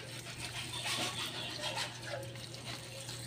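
Water from cooked macaroni pours steadily through a colander into a sink, a soft continuous splashing rush for a few seconds with no talk.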